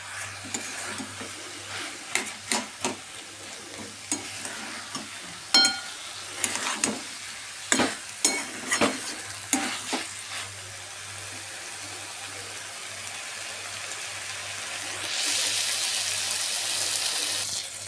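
Khichuri with dal, potatoes, tomatoes, peas and spices is stirred in a pan, with a faint sizzle under repeated scraping and knocking strokes, followed by a steadier hiss near the end; no speech.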